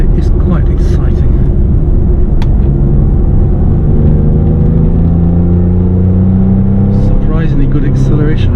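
Porsche 911 996 engine pulling hard under acceleration, a loud sustained rumbling drone with rising tones, heard from inside the car with a person talking over it.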